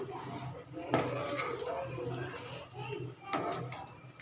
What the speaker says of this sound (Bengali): সমানে আমি নাড়তে থাকছি